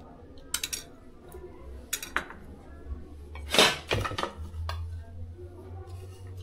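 Sauces being mixed into corn Manchurian in a kadhai, with sharp clinks and scrapes of a utensil against the metal pan coming in irregular bursts, loudest midway, over a low background hum.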